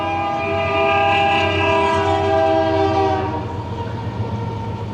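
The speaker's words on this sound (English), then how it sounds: "This better be a short train." A train rumbles steadily past close by, its horn blaring in long sustained tones over the heavy rolling noise of the cars.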